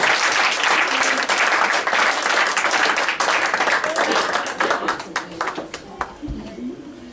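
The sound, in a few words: congregation applause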